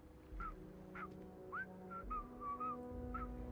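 A video game character whistles a tune in Starfield, with a series of short melodic whistled notes over a low humming game background, fairly quiet.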